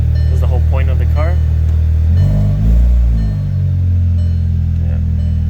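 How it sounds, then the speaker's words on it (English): A big-turbo VW GTI cranks and fires up with a deep rev swell, then settles into a low, even idle rumble; someone talks over the start. "I'll just start it up. Starts right up."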